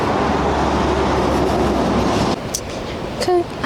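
A suburban Melbourne commuter train rumbles loudly and steadily at a station, then quiets as it settles, with a few brief squeals and a short beep near the end.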